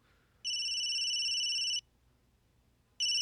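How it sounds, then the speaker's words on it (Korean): An old-fashioned telephone bell rings in a courtroom mystery video game, a loud steady electronic ring lasting over a second, a pause, then ringing again, with no talk. "아주 옛날 전화벨 소리."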